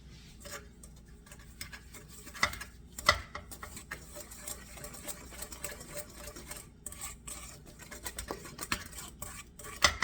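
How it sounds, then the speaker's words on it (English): Hamburger bun dough being stirred down by hand in a bowl, giving soft irregular scraping and knocking strokes with a few sharper clinks, fairly quiet and close, with no talking. "I want to stir this down"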